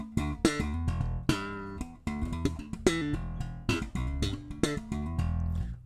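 Fender electric guitar played through a Helix Stomp XL without a Noble preamp, a clean church-style tone: a steady run of plucked notes and chords with crisp attacks and ringing sustain, close and moderately loud, with no talking.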